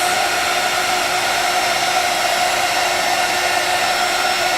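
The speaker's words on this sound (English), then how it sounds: "I love heat embossing." A heat gun blows a steady, loud, unbroken whoosh and whine close by while melting embossing powder on a handmade Christmas card, with no pauses or talk.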